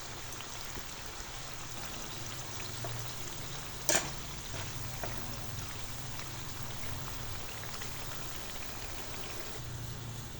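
Potato chips for a crispy zinger snack frying in hot oil give a steady, moderate crackling hiss throughout, with one brief sharp clatter partway through and no voices.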